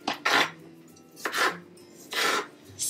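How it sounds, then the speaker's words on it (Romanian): A kitchen knife slices pitted plums on a board in three rough, scraping cuts spaced about a second apart, close and fairly loud, with no talking. "scoatem sâmburii la prune și tăiem prunele"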